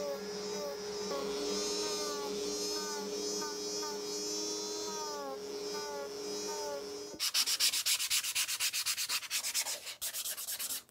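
An electric sander grinds a bevel onto a prop sword. It gives a steady loud whirring rub, then shifts to rapid repeated rasping strokes toward the end, with no talk over it.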